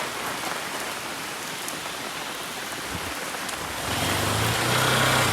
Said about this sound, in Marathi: पाऊस पण खूप आहे मस्त एकदम